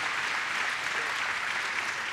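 Applause for Pablo at a Spanish-language church gathering after a baptism, a steady wash of many hands clapping, fairly loud and continuous throughout.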